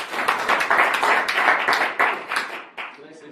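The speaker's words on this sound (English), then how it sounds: "a round of applause for all three of those groups" Brief round of clapping from a small group at a city council retreat, dense irregular claps that thin out and fade near the end, with some voices mixed in.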